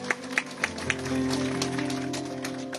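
A church congregation claps rhythmically in praise of Christ, several evenly spaced sharp claps at first, then blending into sustained sound with music or voices underneath.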